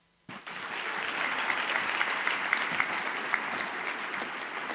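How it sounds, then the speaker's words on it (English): A crowd at a student awards ceremony bursts into applause after a brief silence, the clapping rising sharply and holding steady and dense for several seconds. "Let's give another round of applause to all our brilliant students."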